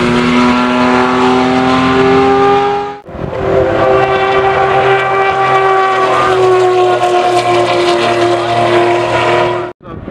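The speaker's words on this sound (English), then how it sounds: "There's the Porsche I came to the track in. That's another one. Oh, 992 GT3." A Porsche 992 GT3 sports car drives loudly on a race track, its engine a strong sustained tone that briefly cuts out and then continues close by.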